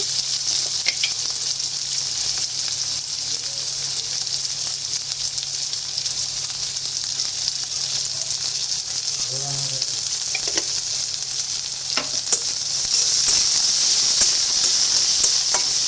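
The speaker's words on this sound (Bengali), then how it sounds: "নেড়ে ভালো করে মিশিয়ে নিতে হবে" Egg bhuna with green chilies sizzles steadily in a pan while being stirred, a constant close frying hiss with occasional scraping that grows slightly louder toward the end.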